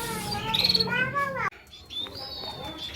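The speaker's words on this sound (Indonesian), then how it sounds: "ini sudah saya keluarkan anakan burung emprit kajinya dan kenari juga ya" Java sparrow chicks (emprit) and canary chicks chirp rapidly at close range in bright, high, slightly warbling calls, with a short pause partway through before softer chirping resumes.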